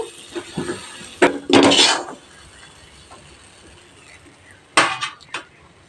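Cooked chhena mixture scraped and lifted from a metal pan onto a plate, giving a few sharp clinks and scrapes of utensil on metal, one longer scraping burst and a later cluster of knocks, close and fairly loud.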